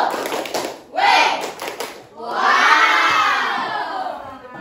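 A class of schoolchildren clap and shout a rhythmic group chant in a classroom, with a short burst followed by a longer sustained roar of voices, loud and close.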